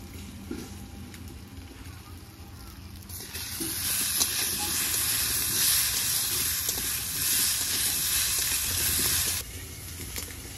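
Katla fish pieces with yam fry in hot oil, a steady broadband sizzle that swells louder for several seconds mid-way, then settles back to a softer hiss.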